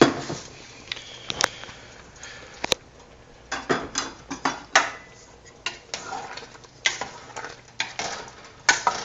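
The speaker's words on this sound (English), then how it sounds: "So let's give it a stir and see what it looks like." Pasta sauce being stirred in a pot, a run of soft scraping and clinking strokes with light bubbling, close by and moderately quiet, with no talking.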